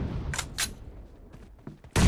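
Gunshots in the PUBG mobile game: two quick sharp reports close together near the start, then a louder blast at the end, with faint rumble and clatter in between.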